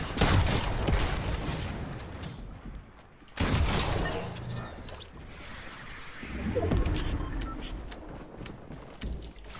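Rockets explode in a Fortnite fight, with loud cracking blasts and bursts of debris, a sharp impact around mid-sequence, then a rumbling swell and scattered clicks.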